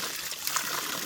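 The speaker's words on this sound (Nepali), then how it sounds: "कल खोलेर धारा चाहिँ दामी रहेछ है" Water runs from an opened tap in a steady trickling stream that is brief and fairly quiet.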